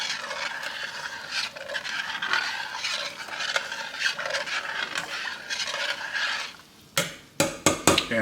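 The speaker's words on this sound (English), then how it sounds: "And give this a stir." Greek rice pudding mixture being stirred in a pot on the stovetop, a steady scraping and swishing of the spoon against the pot, close and fairly loud, ending in a few sharper knocks and taps.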